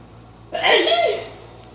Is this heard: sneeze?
yes